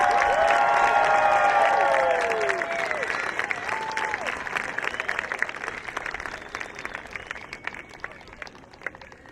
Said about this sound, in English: How about another round of applause for all of our amazing graduates?